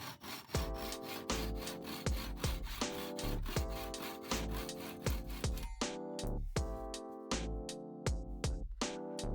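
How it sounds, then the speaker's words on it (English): A Japanese hand saw rasps back and forth through a wooden dowel in quick, rhythmic strokes, close and steady, with no talking. "The best tool for cutting excess dowel is a Japanese saw."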